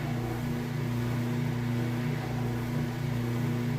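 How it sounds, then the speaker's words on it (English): Kenmore top-load washer draining rinse water, a steady loud pump hum with strong low tonal drone and broadband water rush, continuous without breaks. "You can hear it draining that water out nice and fast."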